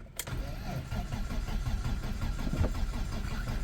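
BMW E30 engine cranking over and catching, then running in a steady rumbling idle close by, with broadband mechanical noise throughout.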